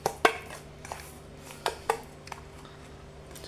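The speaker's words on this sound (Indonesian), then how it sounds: "setelah kayak gini kita aduk kawan" Carp fishing bait mixture being stirred in a container, giving a series of irregular scraping and knocking clatters, close and fairly loud, with steady low hum underneath.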